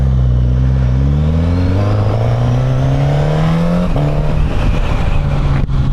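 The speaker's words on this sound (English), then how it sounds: "that 1000cc legendary long-stroke four-cylinder comes to life" Suzuki GSX-S 1000 motorcycle with a 1000cc long-stroke four-cylinder engine, revving loud and close as it pulls away and climbs through the gears, pitch rising steadily before a brief shift and steady roar.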